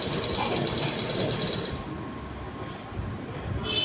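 A sewing machine stitches a folded lungi hem, a fast rattling whir that runs steadily close by, then eases into softer, slower stitching near the end.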